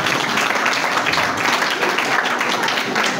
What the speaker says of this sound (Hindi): उनके लिए जोरदार तालियां चाहिए।